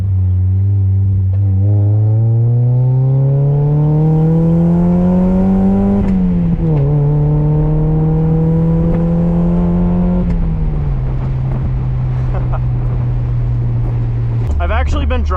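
A Mazda MX-5 Miata NA8 pulling hard in second gear on a night street drive, the engine droning loud and close as it climbs steadily in pitch, then a shift and a lower settled tone.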